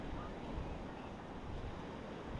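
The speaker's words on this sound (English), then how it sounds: "And that ocean, it's so beautiful." Ocean surf at a California beach by a large tide pool, a steady broad wash of breaking waves mixed with wind rush, continuous and fairly faint with no distinct individual crashes.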